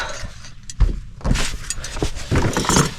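Metal hose clamp being fitted and pressed shut on a Porsche 718 during an oil leak repair, giving a few sharp close clicks and rattling mechanical clatter with handling noise between.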